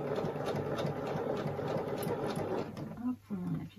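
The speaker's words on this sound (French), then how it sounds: "on coud bien droit sur le trait de pliure" A sewing machine stitches fabric for a Halloween garland in a fast steady rhythmic run, then pauses briefly near the end as someone speaks softly over it.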